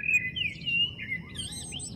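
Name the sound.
rice-stalk flute being blown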